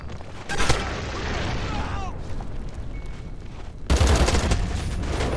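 Video game combat: a grenade explosion bursts out as a loud boom, with gunfire and crackling rumble around it, then a second heavy blast near the end.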